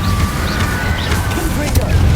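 Incendio fire spell cast in Hogwarts Legacy, a loud rushing burst of flame with crackling debris over a rumbling game soundscape.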